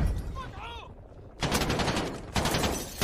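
Gunfire in the Call of Duty: Modern Warfare campaign comes in two loud, close bursts of rapid shots, preceded by a brief voice over quieter background noise.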